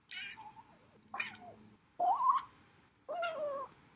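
A voice beatboxes a cat imitation with four short, squeaky meow-like calls separated by brief pauses, close and fairly quiet.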